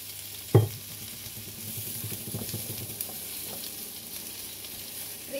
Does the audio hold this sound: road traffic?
no